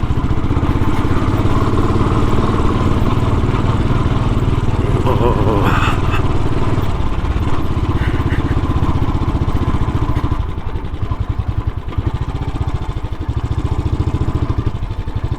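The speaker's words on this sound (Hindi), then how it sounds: "बाइक चलते हुए तो बारिश तेज़ लग रही है, गीली रोड्स हैं तो वैसे ही धीरे चलानी पड़ेगी।" Modified Royal Enfield Scrambler motorcycle engine riding on wet roads in heavy rain in the Uttarakhand hills, a steady loud thrum with rushing wind and road noise that eases slightly toward the end.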